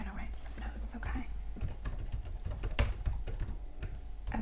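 Notes are typed on a computer keyboard in a quiet, intimate setting, a steady patter of soft close-up keystrokes with faint sounds in the background.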